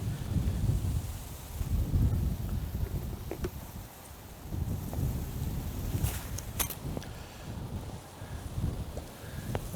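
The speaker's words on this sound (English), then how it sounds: "That wind has got up now." Gusty wind buffets a riverbank during downstream float fishing (trotting), a loud low rumble that swells and eases in waves, with a few faint higher clicks scattered through.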